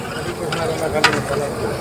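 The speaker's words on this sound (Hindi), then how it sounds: "खाली प्याज भुन रही है।" Onions frying in a pan at a house-warming puja gathering in India, a steady low sizzle with occasional stirring scrapes and a brief louder clatter, with faint voices in the background.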